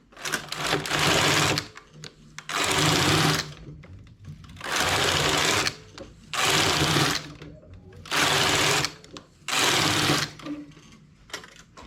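A domestic knitting machine runs its carriage across six rows, each pass a loud whirring, clattering burst of a second or so, separated by short pauses in a steady back-and-forth rhythm.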